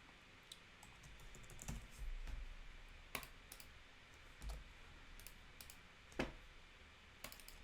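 Keys tapped on a computer keyboard during UI design work in Adobe XD, a quiet, irregular run of light clicks with a few sharper strikes, heard faint and close against low background hiss.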